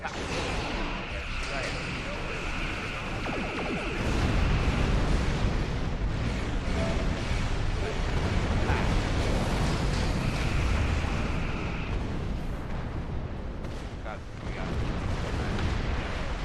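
Starship weapons fire from a Klingon fleet engagement in Star Trek Online: a continuous roaring barrage of energy blasts and rumbling impacts swells and holds for the whole stretch, loud and dense, with a voice speaking over it.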